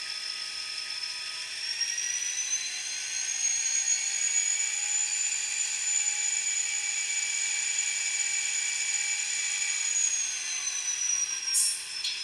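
An N-scale ScaleTrains SD40-2 model locomotive's motor revs up with a steady high-pitched whine that rises in pitch and holds, then winds back down near the end, close and alone.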